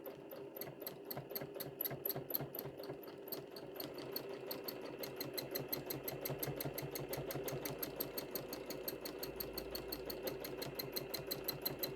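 A sewing machine stitches in a fast, even run of needle strikes during free-motion quilting of a tree design, speeding up slightly partway through and heard alone at moderate distance.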